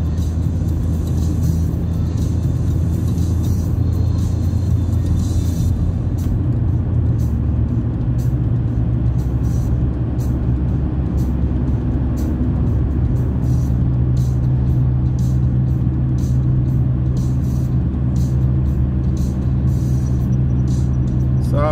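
Steady road traffic rumbles from inside a moving car driving uphill through Maceió, a continuous loud engine and tyre drone with no breaks throughout.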